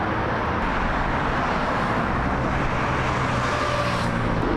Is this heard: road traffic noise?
yes